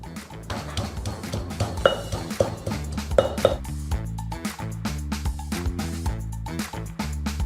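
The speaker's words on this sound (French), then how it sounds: "Écrasez légèrement les piments, puis ajoutez l'ail." Red chilies and garlic are lightly crushed with a pestle, giving repeated close knocking and grinding thuds in an irregular rhythm, with occasional clinks of kitchenware.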